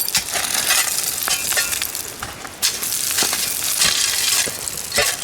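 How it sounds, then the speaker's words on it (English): Broken shards of a WW2 German glass mine being dug from soil, giving close, irregular clinks and gritty crunches as pieces scrape and tumble against each other. "as you can hear, it's all glass that comes out."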